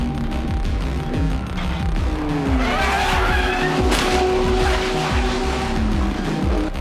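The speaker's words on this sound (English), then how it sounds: "That's cold tyres off the pit lanes." Race car on cold tyres leaving the pit lane at Bathurst 12 Hour, tyres squealing in rising and falling pitches over a loud, steady engine roar, close and continuous.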